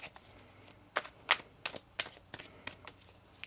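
Quiet, irregular riffling and soft snaps of tarot cards being shuffled by hand, close up.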